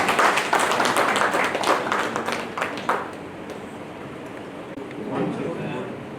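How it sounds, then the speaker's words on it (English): An audience applauds to welcome the chief guest at a faculty development programme event in Varanasi, a dense burst of clapping that tapers off over several seconds. "Let us welcome our distinguished chief guest with a thunderous round of applause."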